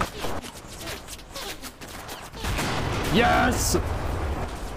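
Anti-tank gun firing in a video game, a sharp loud blast burst amid ongoing battle noise, with excited voices shouting over it.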